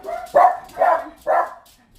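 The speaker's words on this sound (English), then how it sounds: "I have a dog barking." A household dog barks three times in steady succession, close and loud, with short pauses between each bark.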